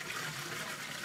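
A toilet flushes in the video game Mafia 2, a brief steady rush of gushing water that fills the moment with no one talking.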